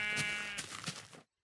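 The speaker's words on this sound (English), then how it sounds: "Natural pink sheep." Bleating of a pink sheep in the Minecraft video game, a single close, clear wavering bleat that stops abruptly into silence.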